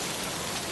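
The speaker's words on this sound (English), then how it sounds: "Rain poured from the heavens," Heavy rain pouring down in a storm, a dense, steady wash of drops hitting surfaces, loud and continuous with no voices.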